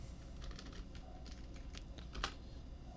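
Quick keystrokes on a computer keyboard while a number is entered into a simple program, a short burst of light clicks in irregular rhythm, close but quiet, with one slightly louder key press near the end.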